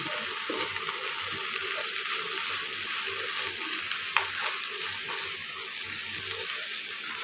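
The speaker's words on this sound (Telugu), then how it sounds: "ఇప్పుడైతే బాగా టాస్ చేస్తూ కలుపుకోండి" Egg fried rice made with plain rice sizzles steadily in a hot pan while it is tossed and stirred, with a constant hiss and occasional scraping clicks.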